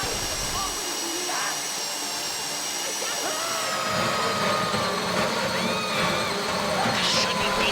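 In GTA Online's Fleeca Job heist, a safe drill grinds on at a high, steady whine that thickens and grows louder partway through, with a hissing edge and a voice talking over it.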